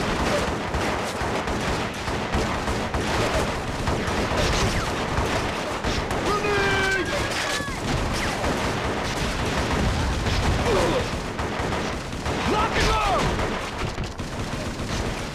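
AK rifle gunfire in Shellshock: Nam '67 on PS2 crackles as repeated loud bursts amid battle noise and shouted game dialogue, continuing for the whole span.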